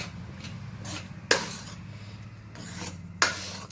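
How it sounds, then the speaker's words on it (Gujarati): A spoon stirs garam masala into chole curry in a cooking pot, making a few scraping, rubbing strokes and two sharper clacks against the metal, close up, with no talk. "થોડો ગરમ મસાલો નાખી દઈશું, પછી હલાવી દઈશું."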